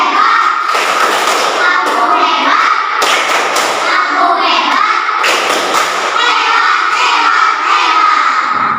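A classroom of children performs a rhythmic clap cheer, loud sharp bursts of clapping in patterned groups, interleaved with the kids shouting the chant together close by.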